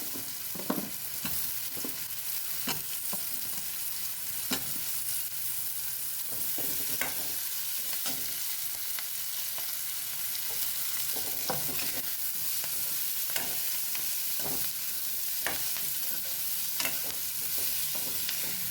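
Drumsticks and onions fry in oil over a low flame with a continuous soft sizzle, broken by frequent stirring scrapes and taps of a spoon against the pan, and no talking.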